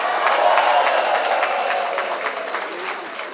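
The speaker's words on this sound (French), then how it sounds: "Applaudissez-vous" Party members at a political congress applaud together, a dense sustained clapping from a large crowd with light cheering mixed in, steady and loud before easing slightly toward the end.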